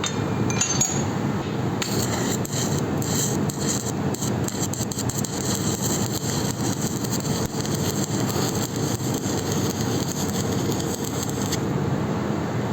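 A hammer peening a cast iron weld, with rapid repeated metallic taps against a steady background hum, heard close and continuous with no talking.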